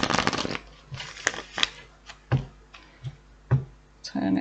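A tarot deck shuffled at close range, a dense riffling flurry at the start and then a run of separate soft card slaps and taps spread across the moment, ending in a brief rustle.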